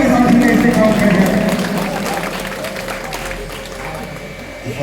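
An audience at an Urdu association gathering applauds to welcome a speaker, with loud, dense clapping mixed with crowd noise that eases slightly toward the end.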